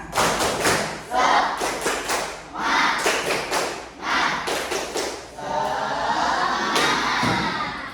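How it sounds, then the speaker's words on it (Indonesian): A classroom audience claps out a rhythmic patterned chant during an Islamic religious education lesson in Indonesia, with loud bursts of synchronized claps and thumps, shouted voices in between, and a brief pause before a final sustained stretch. "Tepuk semangat."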